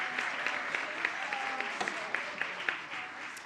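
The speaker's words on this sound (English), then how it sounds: "Can we have one more round of applause for our amazing students?" Brief applause from a small crowd, scattered clapping with a few sharper claps standing out, somewhat distant in a large room.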